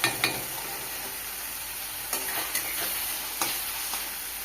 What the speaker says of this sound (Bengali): আদা রসুন বাটা, টমেটো কুচি দিয়ে দিচ্ছি। হালকা কষিয়ে নেব